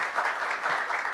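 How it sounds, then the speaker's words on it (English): An audience gives a round of applause for actress Ayesha Khan at a live interview event, with a brief, even burst of continuous clapping. "Can we have a huge round of applause for Aisha?"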